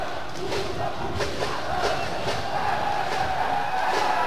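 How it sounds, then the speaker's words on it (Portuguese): Supporters in the stands at a youth football final between Ceará and Fortaleza, a dense continuous roar of crowd shouting and chanting with a few louder rhythmic cries, heard from some distance. "Tem uma torcida gritando pra caramba ali"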